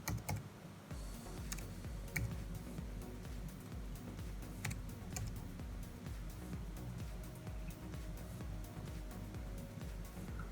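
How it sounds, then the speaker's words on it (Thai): Thai text is typed on a computer keyboard in steady, soft, continuous clicking with occasional sharper keystrokes. The sound is quiet and close, with no talking. "เดี๋ยวผมจะทำการพิมพ์ภาษาไทยก่อน"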